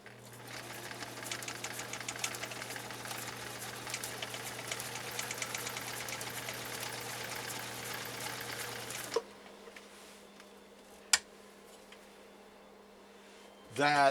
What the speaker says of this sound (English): here goes a blind hem stitch on this 19E special